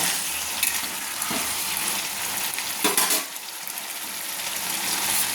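Yardlong beans and potatoes sizzle steadily in a pan, with a spoon scraping and stirring through them in occasional clatters, close and continuous.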